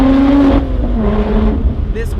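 A Lotus sports car corners at speed, its engine droning loud and steady close by, the pitch sliding slightly as it holds throttle through the bend, with a voice talking over it.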